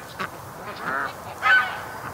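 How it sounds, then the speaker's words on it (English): A Canada goose honks outdoors, two or three nasal calls at moderate distance, the last one loudest, with no talking over them. "But there is another Canada goose down there."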